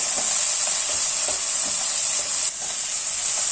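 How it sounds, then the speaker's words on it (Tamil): Tomatoes sautéing in a pan over onions, a loud continuous sizzle and hiss with faint, regular scraping strokes of stirring beneath, close by and free of speech. "இப்போ தக்காளியை போட்டுக்கிறேன் தக்காளியை நல்லா ஒரு நிமிஷம் வதக்குங்கோ"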